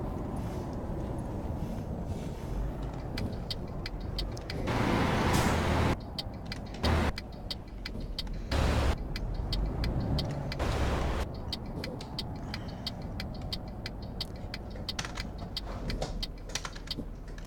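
A truck engine drives at night through Germany in Euro Truck Simulator 2, a steady low rumble broken by several short, louder bursts of broadband noise.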